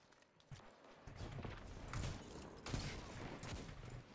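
Video game shotgun blasts in Destiny 2 sound as several faint, scattered bursts over a few seconds, mixed with low rumbling game action and no speech.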